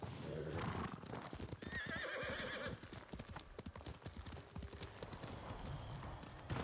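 Horse hooves clip-clop steadily while a horse whinnies loudly, with some game-like ambience around them, in the video game Ghost of Tsushima.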